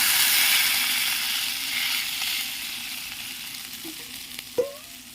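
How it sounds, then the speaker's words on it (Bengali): Water poured into a hot pan of sizzling spice paste for a Bengali fish curry, a steady loud fry that softens slightly, with a few stirring scrapes and a sharp splash-hiss near the end. "এবার আমি জল দিয়ে দেবো।"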